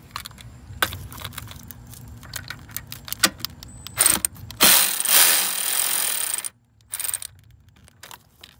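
Hand ratchet clicking as a 10 mm bolt is worked loose from a bracket on a Dodge Durango during an engine oil cooler job, close, sharp metallic clicks in bursts with a louder hiss-like rasp midway and a brief pause.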